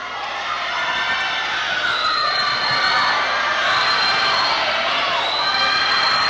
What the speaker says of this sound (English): And just great to hear, Rachel, the cheering from the Cal U squad here.